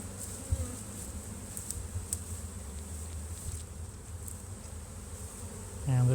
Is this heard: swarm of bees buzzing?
yes